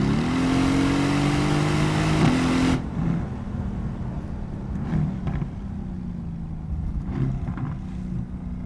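Mercedes AMG GT-S SEMA car driving through the Malibu Canyons, its engine droning loud and steady with a rising tone that abruptly drops off, then settles into a lower, quieter hum with small surges.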